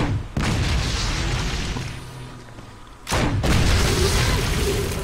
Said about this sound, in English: Stupid grenade rounds.